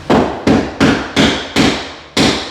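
Six sharp hammer blows drive a prehung hollow-core closet door and its frame tighter into place against drywall, evenly spaced, loud and close, with no talk.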